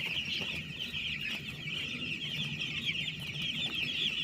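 Chickens on a poultry farm cluck and chatter continuously as a dense, close flock, with a steady high-pitched chorus running throughout.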